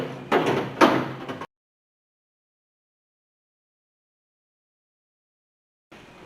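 A door panel on a 1977 Chevy C20 squarebody truck door is set in place with two close, quick knocking clunks, followed by silence.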